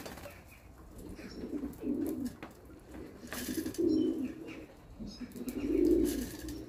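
A pet pigeon coos close by in three soft, rounded bursts spaced a couple of seconds apart, with quiet background rustle between calls.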